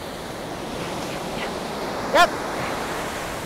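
Surf washes steadily at the water's edge on a beach during an outdoor engagement photo session, a constant rushing wash with wind noise and a brief spoken word over it.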